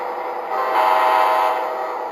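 An Atlas Conrail P42 model train locomotive's sound system plays a sustained, steady horn-like tone with a mechanical hum beneath, clear and close.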